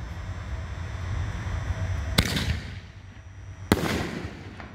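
Two sharp booms from a 5-inch Nishiki Willow canister shell with teal, a consumer firework, go off about 1.5 seconds apart. Each bursts loud and distant and is followed by a fading crackling tail over steady outdoor noise.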